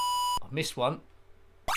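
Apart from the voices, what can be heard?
high-pitched beep in ZX Spectrum game Horace Goes Skiing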